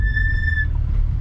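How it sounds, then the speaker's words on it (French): Carbone Lorraine RC6 brake pads on Tarox F2000 discs give a thin, steady high-pitched squeal under braking for about half a second, then fade, over a low engine rumble. "Tu vois dès que tu freines ça siffle"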